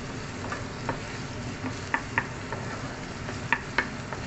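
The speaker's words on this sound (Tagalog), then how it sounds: "So ngayon, onions muna ang ating lulutuin" Onions fry and sizzle in a pan with a steady low hiss, broken by several sharp clicks and taps of a utensil stirring against the pan.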